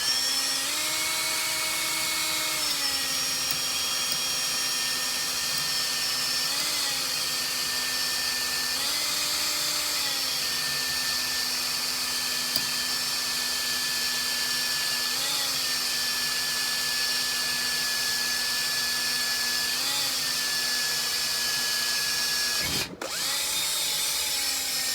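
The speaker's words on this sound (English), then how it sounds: "Center punch and drill her out. Got my 1/8 inch in my drill bit." A power drill with a 1/8 inch bit whines steadily for over twenty seconds drilling metal, its pitch dipping briefly every few seconds as it bites, then cutting off near the end.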